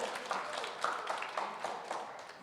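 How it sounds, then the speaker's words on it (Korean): A group of students at a Christian alternative school clapping together in a classroom lecture, a soft, fairly distant patter of hands with a few sharper accents throughout. "3두레 박수"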